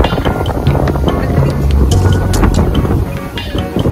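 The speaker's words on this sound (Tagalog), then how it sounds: "grabe sobrang lakas ng hangin" Strong wind roars into the microphone in constant heavy buffeting gusts, loud and unbroken throughout, on Bantayan Island.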